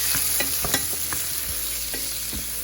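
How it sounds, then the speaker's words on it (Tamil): Tomatoes sautéing with onions in a pan for a Chettinad-style fry: a close, steady sizzle broken by brisk, repeated spatula strokes scraping the pan. "அடுத்து தக்காளி போட்டு வதக்கிக்கோங்க."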